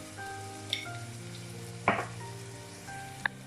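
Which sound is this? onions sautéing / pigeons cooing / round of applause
onions sautéing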